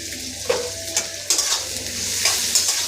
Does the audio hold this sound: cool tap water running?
no